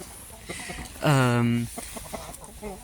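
A hen gives a single drawn-out, throaty cluck like a brooding hen, loud and close, amid quieter farmyard background noise.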